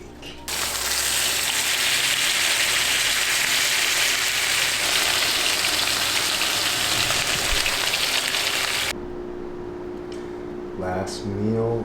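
A piece of steak sizzles loudly and steadily in a hot pan for most of the stretch, then the frying drops to a quieter crackle with faint clatter near the end.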